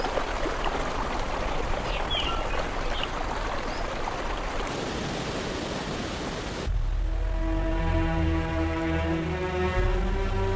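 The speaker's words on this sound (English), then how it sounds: "Raging water calms as the river reaches the flat lands of the Gangetic Plains." Ganges river water fed by Himalayan snowmelt rushes with a dense, steady roar that dominates for several seconds before it gives way to music.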